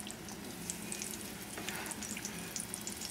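Chicken thighs brown in a hot pan, giving a quiet, steady frying hiss with faint crackles and pops throughout.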